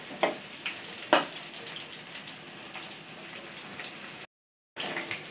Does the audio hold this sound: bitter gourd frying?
yes